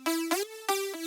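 Synth lead sample from the Silent pack: a bright, buzzy tone rich in overtones plays a few sustained notes with gliding pitch, each sharply attacked, loud and alone.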